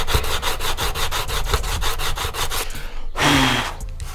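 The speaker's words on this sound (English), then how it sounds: "In the same way, we can sand it back." Sanding a model filled with super glue and baking soda, steady rhythmic back-and-forth rasping strokes, close and loud, followed by a brief pause and a longer scraping pass.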